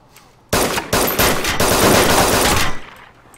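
A video game gun fires a rapid, loud burst of automatic shots for about two seconds, close and dense, then cuts off to near quiet.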